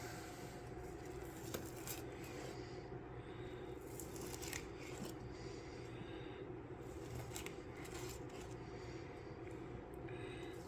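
A knife slices through cooked wagyu flat iron steak, giving faint scraping cuts against a plate or board over a low steady background hum, with no voices.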